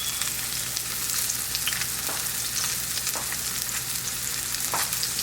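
Pan-seared salmon fries steadily in a pan, a continuous soft sizzle and crackle with occasional louder pops, close up and with no talking.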